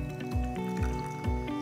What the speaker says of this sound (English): we're using about 75 to 100 ml of elderflower tonic. So just pour this in